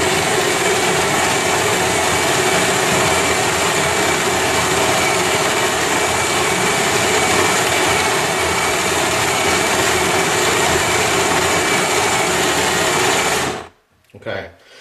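A Capresso 556 stainless steel burr grinder grinds coffee on an extra coarse setting, a loud, steady motor whir with gritty crunching that runs unbroken up close, then cuts off abruptly near the end.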